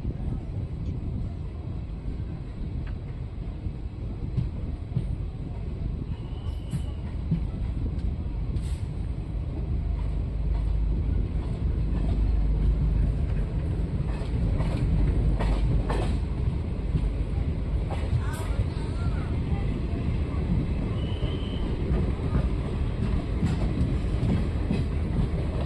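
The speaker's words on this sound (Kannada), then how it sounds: "ನಾವು ಈ ಕಡೆ ಪ್ಲ್ಯಾಟ್ಫಾರಮಿಂದ ಡಿಪಾರ್ಚರ್ ಆಗ್ತಿದ್ದೀವಿ" A train pulls out from a platform at Nimbal railway station while a Hosapete–Solapur DEMU arrives on the other side. A steady low rumble runs throughout with faint clicks and clatter, moderately quiet and without clear speech.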